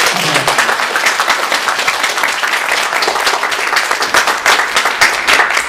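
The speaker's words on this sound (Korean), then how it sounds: "다 같이 박수로 축하합니다." A Korean church congregation at Sunday worship applauds for members' birthdays, dense, even clapping from many hands filling the room for several seconds without pause.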